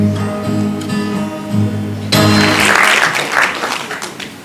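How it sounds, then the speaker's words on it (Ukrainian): An audience at a live performance in a Ukrainian community hall breaks into loud, dense applause that starts sharply and swells, following the close of a sung piece with its sustained tones fading beneath the clapping. "Давайте подякуємо ще раз оплесками пану Віктору."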